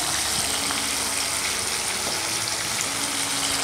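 Chopped tomatoes sautéing in a pan for sambar rice, a dense, steady sizzle that fills the short stretch without a break, close and fairly loud with no talk.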